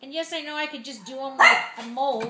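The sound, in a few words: dogs barking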